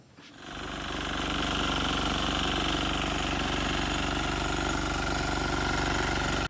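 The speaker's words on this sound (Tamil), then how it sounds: "இப்போ திரும்ப இந்த வீடரை வச்சு ஓட்டுறோம்" A power weeder engine in a sugarcane field starts up and settles into a steady, loud, continuous mid-pitched running drone with no voices.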